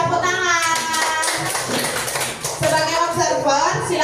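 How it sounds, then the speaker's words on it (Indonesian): A classroom of teachers claps for a group coming forward at a school training session, with brisk hand clapping mixed with voices and children's chatter. "Kasih tepuk tangan."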